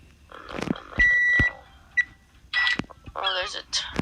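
A timer in the video game Microwave Dinner beeps in short electronic tones, a sustained steady tone followed by a brief chirp and bursts of game sounds, with excited voices talking over it.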